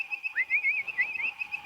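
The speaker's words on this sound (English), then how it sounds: "This is Hyla avivoca, and avivoca means bird voice in Latin, and this is the bird voice tree frog." A bird-voiced tree frog (Hyla avivoca) gives a clear, bird-like whistled trill, a rapid wavering series of pulsed notes repeated over nearly two seconds, close and fairly loud against a quiet background.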